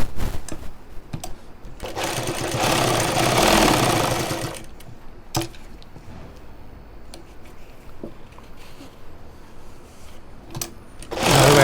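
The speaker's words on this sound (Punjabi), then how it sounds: "ਇਹਦੇ ਪੈਰ ਪੈਰ ਦਾ ਟਾਂਕਾ ਮਾਰਾਂਗੇ" A sewing machine stitches a shirt collar in bursts: a close, loud whirring run of rapid needle strokes, then a pause with scattered clicks and handling, then another short burst starting at the end.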